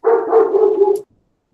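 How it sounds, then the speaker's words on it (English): A single loud, close puppy bark drawn out into a whiny yelp lasting about a second, heard alone in a house with no talking. "There's a very verbal puppy."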